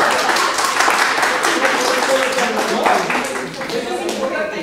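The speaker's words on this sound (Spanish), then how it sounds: "un aplauso para el compañero" Audience clapping at a civil protection course, a dense steady round of applause lasting several seconds with speech mixed in.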